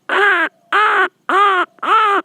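A man mimics a crow cawing at dawn, four loud, harsh caws evenly spaced and close, alone with no speech.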